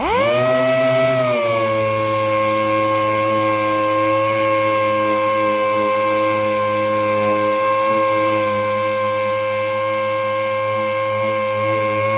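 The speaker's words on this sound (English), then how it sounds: "We're using the air sander with a 120 grit on it at the moment, without the soft pad on" A pneumatic air sander fitted with 120-grit paper and a hard backing pad works flat across a car roof, giving a loud, steady, close whine that spins up at the start and holds an even pitch throughout, with no speech.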